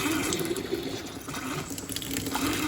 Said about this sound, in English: I'm going to turn on the cold water for the kitchen sink